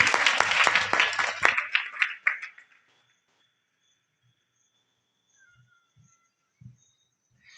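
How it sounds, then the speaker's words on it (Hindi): A school audience at a motivational seminar gives a loud burst of clapping for a young poetry reciter. The dense applause lasts about two seconds, then fades quickly into near silence with a few faint, scattered sounds. "एक बार जोरदार तालियां उनके लिए।"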